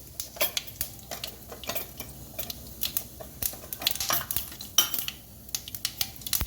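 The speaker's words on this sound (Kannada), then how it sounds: "ಸಾಸಿವೆ ತುಂಬ ಚೆನ್ನಾಗಾಗಿದೆ ನೋಡಿ, ಚಟಪಟ ಅಂತ ಇದೆ" Mustard seeds crackle and pop in hot oil as a tempering is made for a potato and toor dal huli, with sharp irregular spits over a low kitchen background and no talking.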